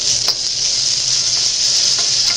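Vegetables sizzling loudly in a pan over medium-high heat, a bright continuous hiss with a few sharper crackles, close and without talk.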